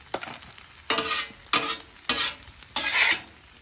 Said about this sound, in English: Leaving all that beef tallow left over from the brisket right on the griddle